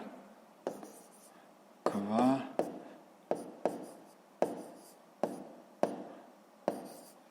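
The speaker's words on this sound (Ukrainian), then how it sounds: "Давайте запишемо квадрат" A pen writes the word square by hand on paper in a series of short, scratchy strokes, each starting with a sharp tap and trailing off. One longer squiggly stroke comes near the start, heard close and alone.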